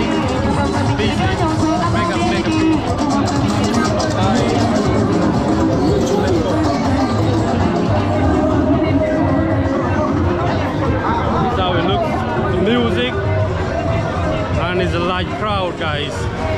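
A dense crowd fills Serrekunda Market in the busy days before Eid, producing a loud, continuous babble of many overlapping voices with occasional vehicle noise mixed in.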